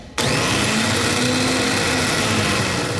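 A snowblower starter motor on a Murray 24-inch 8hp Tecumseh whirs loudly and steadily for a few seconds, a high-pitched spinning whine that never catches or changes into an engine running, its Bendix drive not engaging.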